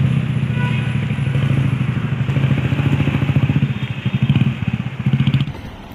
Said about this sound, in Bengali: বাইকটা তুমি চালাবে না আমি চালাবো?